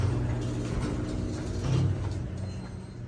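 A Dover Impulse traction elevator in Rawles Hall runs with a steady low mechanical hum and faint rattling of gears, with a brief louder swell partway through.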